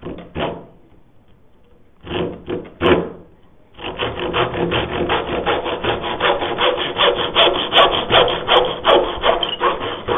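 Hand saw cutting a timber tenon joint: a couple of short bursts of rasping strokes, a pause, then a long run of steady, rhythmic back-and-forth sawing, close and clear with no talking.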